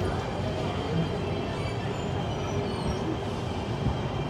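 A Disneyland Resort tram rolls along with a steady, continuous rumble and rattle of wheels, moderately loud and close, with no one talking.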